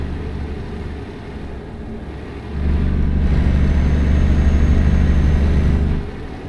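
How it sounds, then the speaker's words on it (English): A loud truck engine in Euro Truck Simulator 2 drones low, then swells into a heavy, throbbing rumble for several seconds before easing back, heard alone without speech. "Truck is loud."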